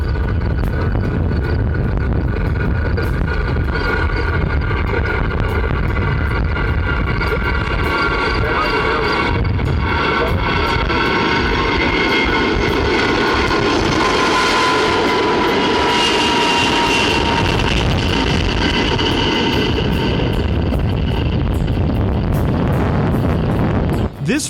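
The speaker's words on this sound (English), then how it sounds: "the United States Air Force made history by successfully firing up Pratt's TF-33 engines" Four Pratt & Whitney TF-33 jet engines on a B-52 bomber run up at an Arizona desert boneyard, a loud, steady broadband roar with whining tones that shift in pitch, sustained throughout.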